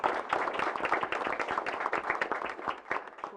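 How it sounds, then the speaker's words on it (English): A school board meeting audience applauds an award-winning student athlete with brisk, dense clapping from a modest group. It is fairly close, continuous and lively for the whole stretch. "Let's give Peyton Westfall a round of applause"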